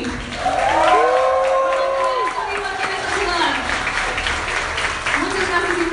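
A rock concert crowd at a Monterrey club cheers and applauds, with drawn-out shouts and whoops rising above steady clapping throughout.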